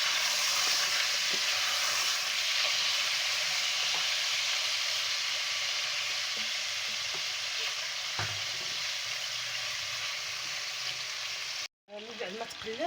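Chicken frying in a pan until browned for chicken kabsa, a long, steady sizzle of hot oil at moderate volume with faint crackles, cut off briefly near the end before a different clattering sound begins.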